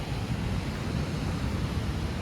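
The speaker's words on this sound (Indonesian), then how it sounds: "bisa dilihat ombak dari pantai ini sangat kencang" Strong ocean waves pound the shore at Parang Dowo beach on Java's south coast, a loud, steady roar of surf with no break or pause.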